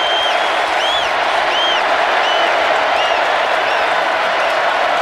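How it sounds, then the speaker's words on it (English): A packed college football stadium roars steadily at an LSU versus Alabama game, a dense, loud, unbroken wash of crowd cheering and applause with faint whistles rising above it. "Now the crowd into it."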